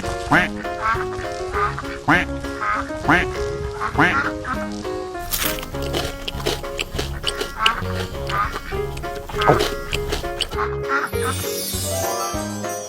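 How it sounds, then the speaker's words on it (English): A duck quacks repeatedly in a bouncy rhythm over a cheerful musical backing, the calls clear and close, with a voice briefly heard. "Duck."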